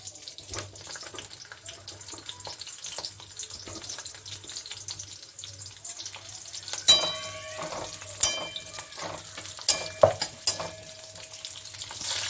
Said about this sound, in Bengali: পেঁয়াজটা আমি বেশি ভাজবো না, হালকা ভাজবো